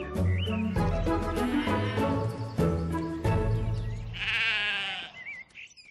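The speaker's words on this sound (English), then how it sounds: "and I liked the late introduction of sheep." Sheep bleat loudly in a television programme scene, a run of wavering, close calls layered with rhythmic bangs and other studio sounds, ending in a brief high squeal.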